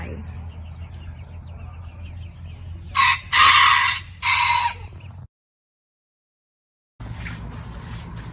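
Japanese chickens cluck in the background while a rooster crows loudly and close by in a few drawn-out bursts. Audio cuts out briefly before the ambient farmyard sound returns.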